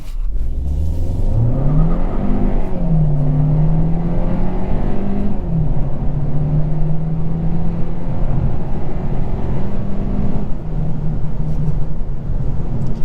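A 2023 Hyundai Sonata Limited with a 1.6-liter turbo engine accelerates from inside the cabin, a loud droning engine note rising and shifting in pitch, holding steady as speed builds.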